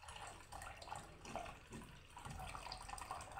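Water steadily filling a reservoir in a level-relay test setup, a continuous rushing, splashing flow at low level without pause.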